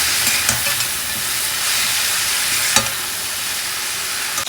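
Vegetable stalks fry in oil with a loud, dense, unbroken sizzle, punctuated by a few sharp clinks or pops from the pan.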